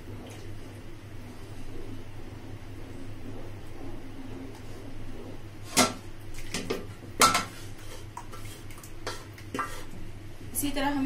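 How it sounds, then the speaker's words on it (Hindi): Rice flour dough for murkul being stirred in a pot, with a soft ongoing scraping and stirring and a few sharper metallic knocks of a spoon against the pot, under a low background hum. "इसी तरह हमें चलाते रहना है जब तक ये गाढ़ा ना हो।"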